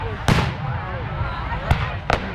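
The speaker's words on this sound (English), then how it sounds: "It's like, oh great, fireworks." Canada Day fireworks bursting outdoors, three sharp booms spaced apart, the first strongest, with crackle and background voices in between.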